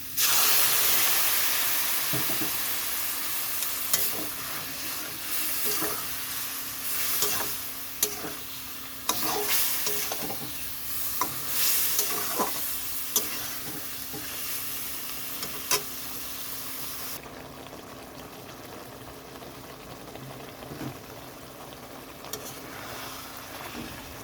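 Water poured into a pan of sizzling banana curry sets off a hissing sizzle, with spoon scrapes and taps as it is stirred; the sizzle gradually softens and quiets toward the end.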